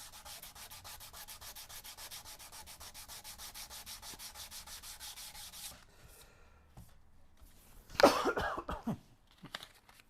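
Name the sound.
coughing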